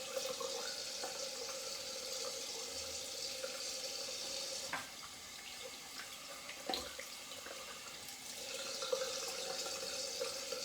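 Running water from a sink tap splashes steadily as a man rinses his face with lukewarm water while shaving, a continuous close hiss with faint splashes and small knocks.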